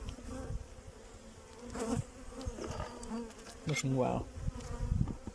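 A strong honeybee colony hums from an open hive in a steady, close, dense buzz, with brief louder swells as bees fly near, and a voice speaking briefly over it.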